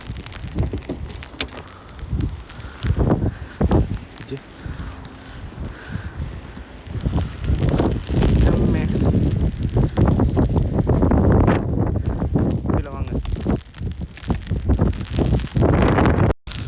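Strong wind buffets the microphone in loud, roaring gusts with rustling and blowing snow, rising and falling throughout.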